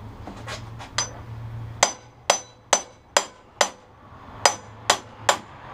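A hammer strikes the metal case of a handheld impact driver about ten times, sharp ringing clanks coming close and loud at an uneven pace, some in quick pairs and others spaced apart.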